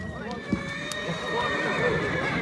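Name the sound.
horse neighing at a market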